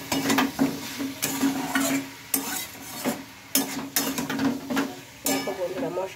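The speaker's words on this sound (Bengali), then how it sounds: "মশলার সাথে তো আমি ভালোভাবে সয়াবিনটা মিশিয়ে নিলাম" Boiled soybean chunks are stirred into masala in a pan, making repeated close scraping, clinking strokes in an uneven rhythm over a light sizzle, with no voices.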